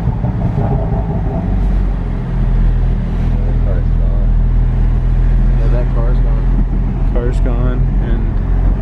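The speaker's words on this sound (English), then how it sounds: "That car's gone" A car rolls past with a low rumble that swells and holds close by while people talk over it.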